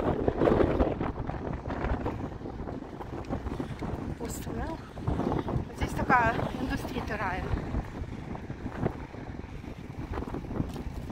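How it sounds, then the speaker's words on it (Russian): Stormy wind blows near the sea on the Dutch coast, a constant rough roar buffeting the microphone, with people talking through it. "ветер штормовой"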